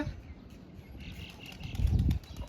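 Young pigeons flapping their wings as they take off on a first flight in the rain, a brief flurry of wingbeats at moderate distance, with faint birdsong in the background.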